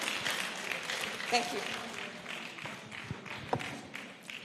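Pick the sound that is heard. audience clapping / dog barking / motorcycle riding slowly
audience clapping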